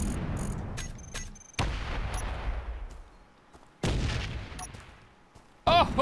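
An orbital strike pounding a planetary base in Space Engineers, heavy booming impacts landing in separate bursts that each trail off into long rumbling decays, loud and close with no talking.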